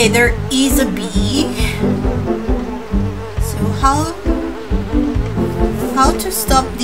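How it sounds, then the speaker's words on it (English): A cartoon bee buzzes in the mobile drawing puzzle game Dumb Ways To Draw, a wavering insect drone rising and falling in pitch amid chirpy game music and effects, with a voice briefly speaking. "Okay, there is a bee."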